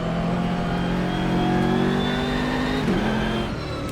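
GT3 race car in rFactor 2 on the Mugello circuit, its engine droning loudly and steadily at high revs as it pulls up through the gears, with a brief shift near the end.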